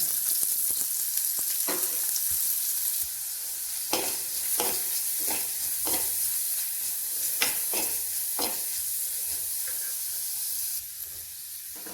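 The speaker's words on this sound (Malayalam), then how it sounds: "ചട്ടി ചൂടായപ്പോൾ കുറച്ച് എണ്ണ ഒഴിച്ച് കുറച്ച് കൊച്ചുള്ളി അരിഞ്ഞത് വഴറ്റാം." Chopped shallots sauté in hot oil in a clay pot for a Kerala fish curry, giving a steady close sizzle broken by sharp scraping clicks from stirring, with no voices.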